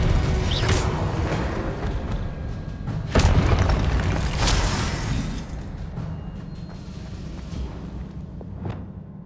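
Repeated booming magical blasts from the Confringo spell in the Hogwarts Legacy video game, loud and layered with crackling debris over a continuous rumbling game soundscape, gradually fading toward the end.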